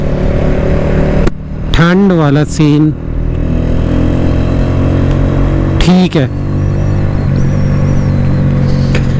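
A Honda CG 125 Special Edition motorcycle runs steadily nearby, its engine note swelling in short revving bursts between gear changes, while someone talks over it.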